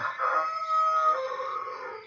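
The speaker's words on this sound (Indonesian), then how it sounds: "Ayam mulai berkokok." A rooster crows in the morning, one long drawn-out cock-a-doodle-doo heard clearly at moderate distance with nothing else sounding.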